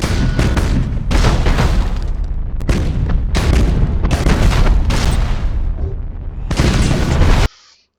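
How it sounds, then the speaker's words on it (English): Heavy macro cannon fire from the video game Battlefleet Gothic: Armada, a continuous series of deep booming blasts that overlap into a rolling barrage, loud and close, then cut off abruptly. "macro cannons are standard weaponry"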